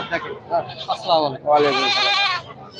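Black Bengal goats bleat at a busy livestock market, loud nearby calls, a few short bleats followed by one long wavering bleat, over crowd talk.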